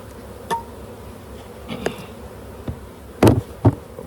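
Honeybees from a package buzz steadily while being installed into a hive with an inner cover, introducer and feeder, a low insect drone under scattered handling knocks and clunks.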